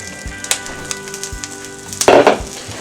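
Wild mustard greens hitting a hot pan, a close sharp sizzle with clattering stirs and a loud hissing burst partway through, no speech.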